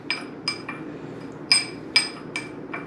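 A utensil stirs seasoning and crushed red pepper in a bowl, giving a series of sharp metallic clinks against the bowl in an uneven rhythm, close and clear with no talking.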